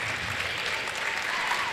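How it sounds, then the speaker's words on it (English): A high school basketball crowd at a sectional semifinal between North Judson-San Pierre and South Central claps steadily throughout, a dense, even wash of applause from fans on their feet, heard at a moderate distance. "You can hear Blue Jay Nation on their feet clapping"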